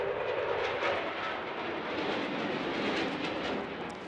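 A Eurofighter Typhoon jet roars through an airshow display, its broad, loud engine rumble sustained and steady for several seconds, heard outdoors with no voices.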